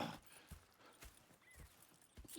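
Horses in the video game Red Dead Redemption 2 clip-clop at a walk, a few faint, uneven hoofbeats alone without talk.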